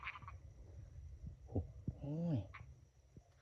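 Khiat kratan frogs in a rice paddy after a storm: scattered raspy croaks over outdoor noise, with a low wavering call and a few dull thumps, close and moderately loud.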